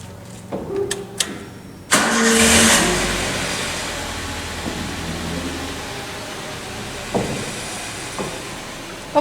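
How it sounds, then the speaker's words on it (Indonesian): Toyota Avanza car engine starts up with a sharp crank and catch, then settles into a steady close idle; a few clicks and knocks sound before and after. "Kemudian kita nyalakan mesin mobil."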